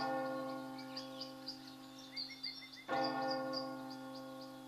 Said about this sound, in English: and I hear church bells